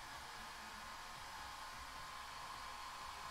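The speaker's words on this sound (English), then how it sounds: "The wife's got the hairdryer on." A hair dryer runs steadily in the background at home, a constant broadband whoosh with a low rumble that holds evenly throughout without pause.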